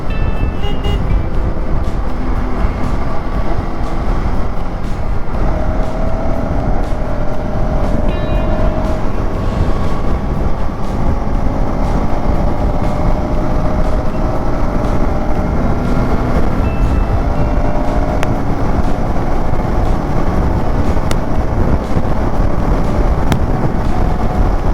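A KTM 390 Adventure X motorcycle, not recently serviced, cruises a highway in fourth gear at around 100. Its loud, steady engine drone and wind roar run the whole time, with the engine note slowly rising and no talk.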